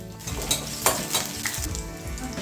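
Green chillies frying in oil for sabudana khichdi, a steady close sizzle broken by a few sharp stirring scrapes and clinks of a spoon against the pan.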